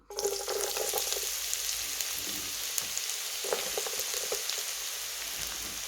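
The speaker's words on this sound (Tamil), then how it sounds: "இப்போ எண்ணெய் நல்லெண்ணெய் விட்டேன்னா கொதிச்சிட்டுது இப்போ இதுக்குள்ளே வெங்காயத்தை போடுவோம்" Onions drop into hot sesame oil and fry with a steady close hiss, a brighter crackle bursting up around the middle as the pan is stirred.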